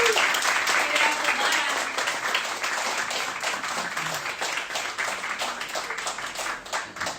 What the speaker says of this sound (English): Can we have another round of applause for Hisham?